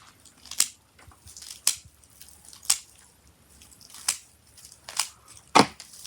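Scissors snipping through orchid roots during repotting, about six crisp cuts spaced roughly a second apart, close and clear with little else around them.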